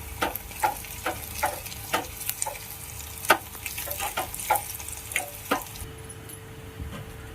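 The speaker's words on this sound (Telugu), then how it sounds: "ఇప్పుడు ఇందులో పచ్చిమిరపకాయలు వేస్తున్నా" Green chillies frying with softened onions in a pan, a constant sizzle punctuated by regular sharp taps of a spoon stirring against the pan, close and without speech.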